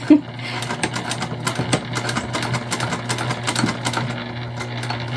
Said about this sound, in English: we'll go ahead and sew down the sides